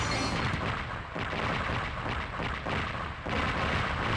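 Explosions in the video game Sonic Adventure boom in a dense, rumbling series of blasts, loud and continuous with short dips between bursts.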